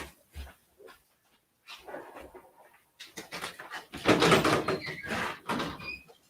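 A door opens to let dogs in from outside, giving short knocks and clatters, then a louder stretch of scuffling and movement as the dogs come through, with quiet gaps in between.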